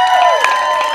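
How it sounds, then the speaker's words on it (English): An indoor wrestling crowd cheering the wrestlers after a match, a loud, close mix of shouts and whoops with scattered clapping. "Cheering on the professional athletes you've seen today."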